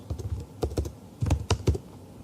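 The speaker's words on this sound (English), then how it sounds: "go to Google and type in eBay category numbers" Keys clatter on a computer keyboard in short, irregular bursts of close, crisp taps with brief pauses between groups.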